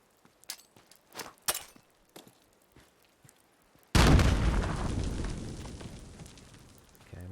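Grenade explodes in Fallout 4 with a sudden loud boom that decays over about three seconds, preceded by a few scattered clicks and light thumps of gameplay and no talking.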